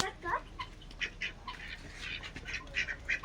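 Ducks eating at a farm tourism centre in Vajreshwari give repeated short nasal quacks, several birds calling in quick irregular bursts, near and moderately loud over a low background murmur.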